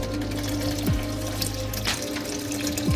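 Water is poured into a pot of cooking haleem, a steady rushing splash with a couple of sliding tonal sweeps over a low background hum.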